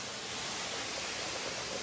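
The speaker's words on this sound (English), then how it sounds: "We're going to go under the waterfall." Water pours steadily from a waterfall at Dorrigo, a constant broad rushing hiss heard up close with no talk over it.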